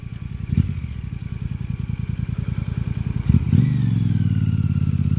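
A motorcycle engine revving while riding, a loud, close, rapid low-pitched throb that rises sharply in revs partway through, steady and without talk.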